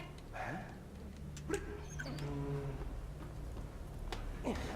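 A dog in the video game Valiant Hearts giving short whimpers and yips over a steady game soundscape, with a few brief tonal game effects in between.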